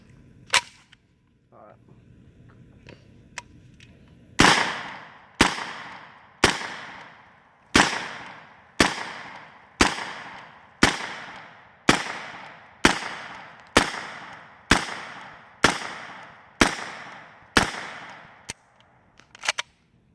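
An Omega MP5 firing about fifteen sharp, loud single shots at a steady, evenly spaced pace after a few faint handling clicks, close and dominating.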